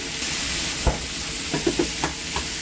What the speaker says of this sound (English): We're gonna start mixing this up.